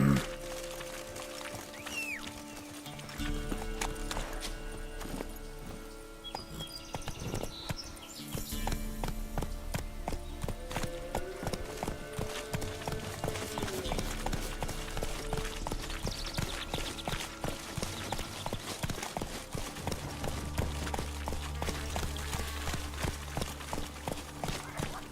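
Hooves of a horse clip-clop at a run through a Witcher 3 game scene, rhythmic and steady for the whole stretch, sitting under a continuous bed of game music with faint birdsong.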